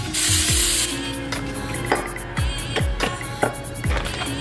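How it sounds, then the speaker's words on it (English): Short hissing spray bursts of coconut oil onto a waffle iron, followed by several light taps and knocks as the iron is handled. "take the waffle iron. We're gonna spray it with some coconut oil."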